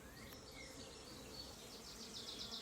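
Honeybees buzz around an opened top bar beehive in a faint, continuous drone with no voices, their hum steady throughout with a few brief, higher, whining passes of individual bees flying near.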